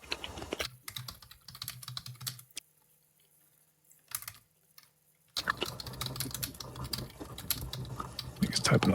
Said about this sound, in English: typing a lot, damn